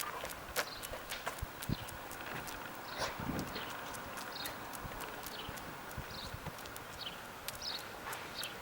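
A horse trots on a lead in a circle, its hoofbeats landing in a quick, steady rhythm of soft thuds, fairly close, with no talking.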